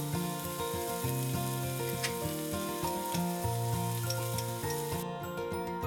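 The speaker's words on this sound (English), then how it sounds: "Stir fry for 2 to 3 minutes." Chopped garlic stir frying in a hot pan gives a steady, loud sizzle with soft clinks of a utensil stirring, continuing without any voices throughout.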